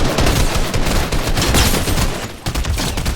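Rapid, dense gunfire from a Fortnite match fills the whole stretch, loud and continuous bursts with brief dips, no voices over it.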